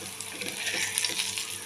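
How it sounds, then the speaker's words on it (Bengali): Brinjal pieces fry in hot oil in a pan, giving a close, steady sizzle with light crackling throughout, ending in a brief louder burst. "আর এদিকে আমি বেগুনটা ভেজে নিচ্ছি।"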